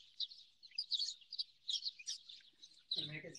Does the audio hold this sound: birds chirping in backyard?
yes